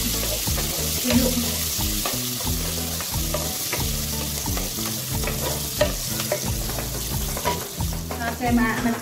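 Onion sizzles and crackles in hot oil in a pan on an outdoor cooking setup, with repeated scraping strokes of a spatula stirring it in a steady rhythm, loud and close throughout.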